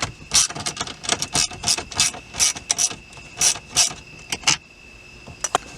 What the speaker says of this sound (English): Remove the 2 8mm bolts holding this ashtray in.